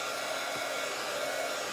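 Hair dryer blowing steadily on a freshly painted board, a continuous even whir that stays close and constant throughout, with no voices.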